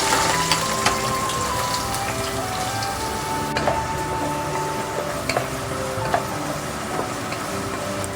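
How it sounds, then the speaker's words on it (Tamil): Chopped shallots frying in hot oil in a pan, a steady rain-like sizzle running throughout with occasional small pops and crackles, moderately loud and close. "நம்ம சின்ன உள்ளி வெட்டி போட்டு வதக்குறோம்"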